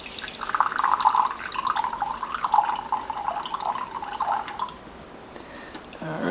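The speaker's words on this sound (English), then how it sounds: "there is a little spout in the rear here. So we'll just pour some water." Water pours from the small rear spout of a Zero water filter in a steady trickling stream with dripping, loud and close, then tapers off near the end.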